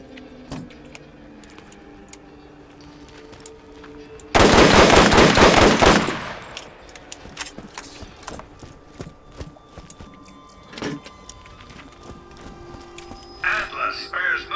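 A Dahl full-auto sniper rifle in Borderlands 1 unleashes a loud, rapid burst of about two seconds, with sparse single shots and game effects around it while someone talks.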